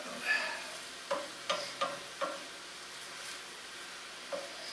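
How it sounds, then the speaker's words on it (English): A wooden spoon stirring spinach artichoke dip in a pan, with a handful of separate scraping strokes at an uneven pace over a soft background hiss. "Get myself a wooden spoon here. Just start moving it around."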